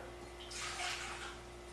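One cup of water poured for a bread starter ahead of pizza dough, a soft, brief splashing pour lasting about a second over a quiet room hum.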